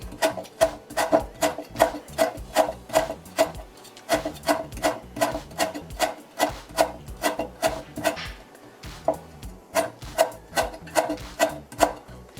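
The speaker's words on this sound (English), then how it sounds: "I'm gonna chop this what is it? Lemongrass, and mix it with the batter. So finely chop it." A knife finely chopping lemongrass on a board in a home kitchen, being prepared for a batter to season pompano, with a steady run of quick, crisp rhythmic strokes that pause briefly before resuming, up close with no talk.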